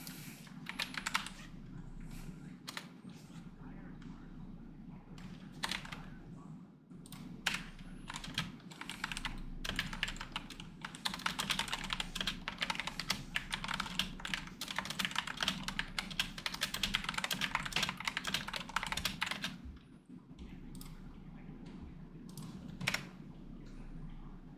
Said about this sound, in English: I just realized my keyboard sound loud as hell.